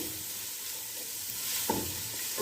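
Vegetables frying briefly for chicken hot and sour soup, a soft continuous sizzle with one stirring scrape near the end, quiet and without voices.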